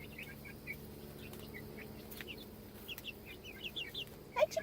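Chickens on a homestead cluck softly and intermittently at a moderate distance, with scattered short calls over a steady low background hum.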